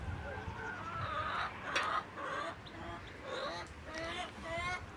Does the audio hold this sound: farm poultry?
yes